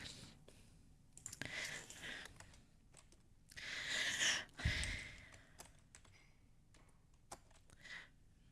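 Quiet clicking keystrokes on a computer keyboard come in irregular bursts during a Halloween card-making session, close and soft with a few louder taps.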